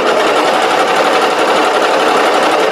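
A coverstitch sewing machine running a three-thread triple cover stitch, attaching binding to a bathing suit coverup: a loud, steady, fast mechanical whir that runs without a break, close up and with no talking.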